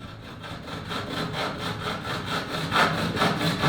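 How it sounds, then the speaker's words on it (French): A hand saw rasps through wooden boards being cut into birdhouse parts, with repeated close back-and-forth strokes in a steady rhythm, gradually growing louder. "on utilise soit l'outil suivant la scie, soit la scie sauteuse pour découper chaque partie du nichoir"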